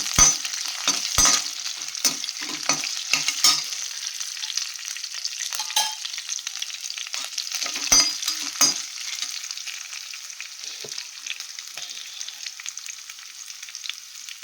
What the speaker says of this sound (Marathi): काजू पण फ्राय करून घेते।